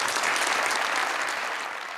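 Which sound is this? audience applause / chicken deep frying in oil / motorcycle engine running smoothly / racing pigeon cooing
audience applause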